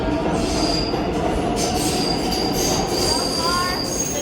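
A subway train rolls into Borough Hall station in Brooklyn loudly, steel wheels squealing with high, sustained screeches over a dense rumble of rail noise.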